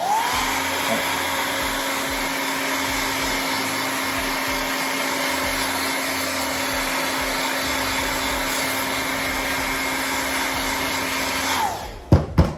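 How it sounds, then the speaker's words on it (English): A steady, loud whooshing heat gun blows hot air onto a shoe continuously, then cuts off abruptly near the end with a couple of clunks. "And you can take your heat gun or hair dryer."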